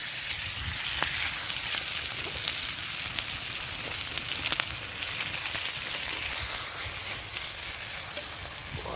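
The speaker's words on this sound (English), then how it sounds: "Oh, you've got to love that sizzle sound" A burger and bacon fry together in a pan at a wild forest camp in Scotland, a steady close crackling sizzle with occasional sharper pops, no voices over it.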